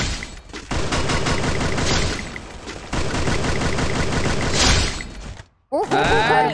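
Sustained, dense gunfire in Garena Free Fire, with rapid overlapping shots and crashes that continue almost without a break, a brief silence near the end, then a final burst.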